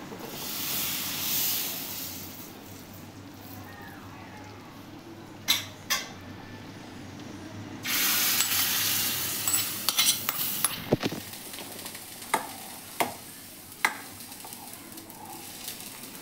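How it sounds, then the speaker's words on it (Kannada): Hot tempering poured over chana masala gravy gives a soft sizzling hiss, broken by a few sharp metallic clinks and taps of a pan and spoon at close range. "ಕೊನೆಯಲ್ಲಿ ಈ ಒಗ್ಗರಣೆನ ಚೆನ್ನ ಮಸಾಲ ಮೇಲೆ ಹಾಕ್ತೀನಿ."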